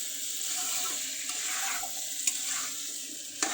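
Chicken pieces being stirred with spices in a pan, a soft continuous scraping and gentle sizzle close by with a couple of brief clinks of the spoon, no voices.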